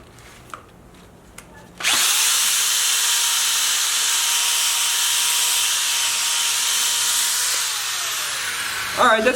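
A power drill fitted with a scrub brush spins against heavily soiled carpet during auto detailing, starting abruptly after a quiet moment and holding a loud, steady whirring grind for about seven seconds before slowing near the end.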